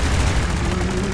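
Gunfire in the Roblox game Arsenal: a loud, dense, continuous burst of shot and boom sounds filling the whole short moment, with no clear gaps.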